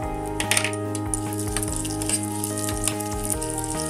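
Urad dal sizzling in a spoonful of hot oil as the first step of a sambar masala, a loud, steady close-up frying hiss with small crackles, over a faint background hum.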